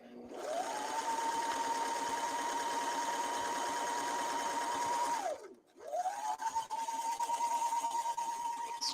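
A serger hums steadily while stitching the edge of a T-shirt, running for about five seconds, briefly stopping, then starting up again, close and alone.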